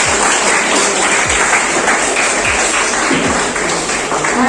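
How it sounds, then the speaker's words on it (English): Audience applause welcoming the vice principal and head of computer science from KCS Kasinada College at a school career guidance program in Royapuram: steady, dense clapping from a sizable crowd throughout, with a few louder taps standing out. "Can you give them a big applause to them?"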